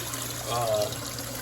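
Water streams out of a homemade bucket canister filter into a turtle pond for hatchlings, a steady close trickle and splash running under a constant low hum.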